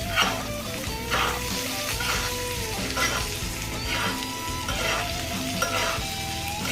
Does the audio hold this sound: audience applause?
no